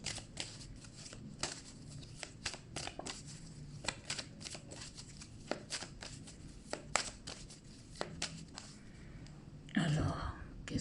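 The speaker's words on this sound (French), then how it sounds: "on va rebattre à nouveau les cartes, prendre 2 autres pour finir ce tirage" A deck of cards is shuffled repeatedly in a quiet room during a French tarot-style card reading, giving soft riffling flicks and papery taps, with a louder burst of shuffling near the end.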